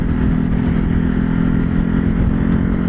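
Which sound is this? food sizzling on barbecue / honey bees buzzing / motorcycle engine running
motorcycle engine running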